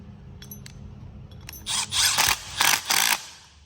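Bolt being tightened into a metal door on a Can-Am Maverick X3, a few soft clicks followed by several short, close ratcheting bursts of a tool.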